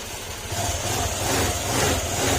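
An engine idles with a low rumbling drone, a faint light valve ticking riding on top, constant and fairly close.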